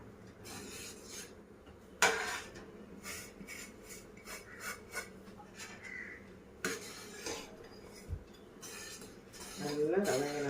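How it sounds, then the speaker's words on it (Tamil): Semolina being stirred in a pan for rava kesari, a spoon rasping and scraping against the metal in irregular close strokes, with occasional clinks and bumps. "சேர்த்துட்டு நல்லா கைவிடாமல் கிண்டணும்"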